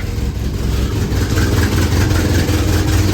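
An engine on an abandoned machine, running after losing its carburetor prime and firing without a choke, holds a loud, steady low rumble close by for a few seconds with no talk over it.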